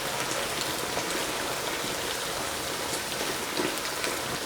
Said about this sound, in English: Cooking this on high heat.